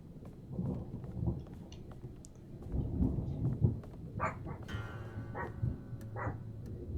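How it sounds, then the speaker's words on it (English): Rolling thunder in the South of Midnight game rumbles low and distant through a stormy scene, broken by a few brief higher cracks and sharp accents, with no voices over it. "we hearing that thunder,"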